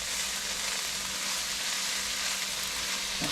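Stuffed bell pepper filling sizzles steadily in a hot pan as it gets stirred, a dense continuous frying hiss with a faint scrape of a spoon near the end.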